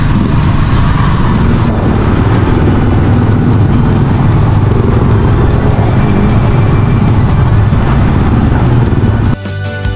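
Motorized tricycle engine drones loud and close while riding, a steady rattling mid-range hum with road rumble underneath, briefly dropping away near the end.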